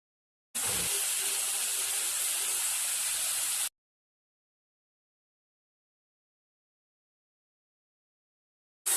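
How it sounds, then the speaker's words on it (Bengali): Cut pabda fish fry in hot oil in a pan, a loud, steady hiss of spattering oil that runs for about three seconds and then cuts off into silence. "তেল ছেড়ে কাটা মাছ দেব।"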